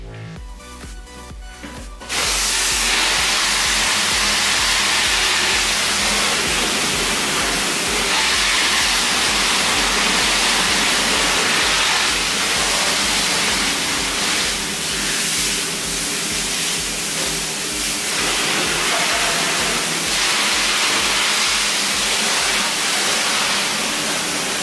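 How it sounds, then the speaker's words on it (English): Hose water sprays steadily across a car to rinse off soap after a week-old Turtle Wax Graphene Flex Wax coating, a loud continuous hiss that starts abruptly after a brief pause and runs without talk. "I'm going to rinse it now and hopefully we will see some good results once this soap is rinsed off."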